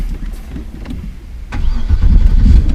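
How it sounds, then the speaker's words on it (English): A Cadillac XLR engine fires up via push-button start, a brief starter crank followed by a loud, close rumbling catch that settles into a steady idle, with no talk over it. "Push button start."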